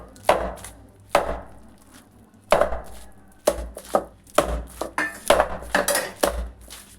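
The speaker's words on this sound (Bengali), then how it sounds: "পিঠেতে এভাবে একটু বাড়ি দিয়ে নেবেন, খুব ভালোভাবে একটু বাড়ি দেবেন" Ripe palm fruit is struck hard again and again to soften it, giving a string of about a dozen close, heavy thuds in an uneven rhythm with brief pauses between the blows.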